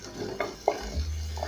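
Onions are cooking in a pan for a soya chunk recipe, a low sizzle broken by two or three quick scrapes and knocks of a spoon against the pan, close and short, with no speech.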